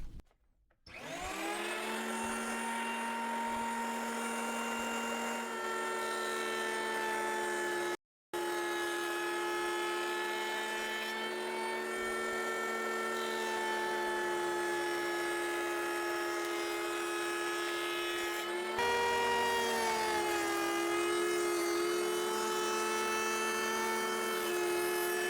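Handheld power tool cutting a 10 mm rebate along a wooden board in a rural workshop, a loud steady high-pitched whine that starts up, cuts out briefly, then shifts pitch under load near the end, with no voices.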